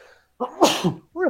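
A single sharp sneeze, loud and close, followed by a brief spoken exclamation.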